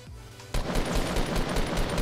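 Rapid automatic gunfire in Fortnite, loud and continuous bursts of regularly spaced shots kicking in abruptly after a quiet moment.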